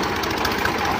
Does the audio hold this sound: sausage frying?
no